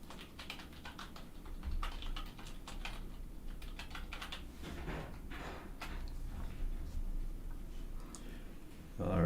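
Typing on a computer keyboard while coding Python exercises, heard as a quiet, steady run of soft key clicks in uneven bursts with a low room hum under it.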